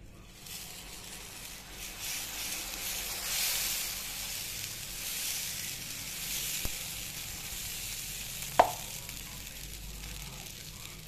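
Millet and urad dal dosa batter hisses softly on a hot oiled pan, a faint continuous sizzle at close range with a couple of sharp clinks of a utensil.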